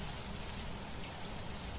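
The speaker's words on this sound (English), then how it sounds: "Oh, it's only light rain." Light rain in the horror video game Phasmophobia, a steady, even hiss of drizzle with no breaks, soft and continuous, heard alone.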